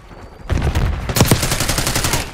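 Gunfire in the Babylon beta video game, with a quiet stretch and then a sudden burst of rapid, loud automatic shots and a few sharper cracks in close succession.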